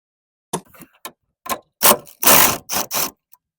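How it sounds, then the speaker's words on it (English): An impact wrench with an 18 mm socket on extensions removes the strut nuts of a Sierra Silverado. Several short, loud, close rattling bursts come in quick succession, separated by brief silences. "I have my impact wrench with the 18 millimeter and a couple extensions"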